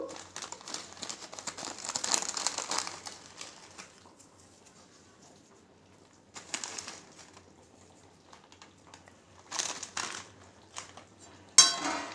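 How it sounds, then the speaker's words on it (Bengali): Dried kasuri methi (fenugreek leaves) crumbled by hand into chicken curry: brief dry crinkling bursts close to the microphone, separated by quiet gaps, with a few clinks near the end. "এবার একটু কসরি মেথি দেবো"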